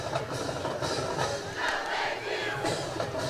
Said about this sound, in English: And this Colonial crowd still holding strong.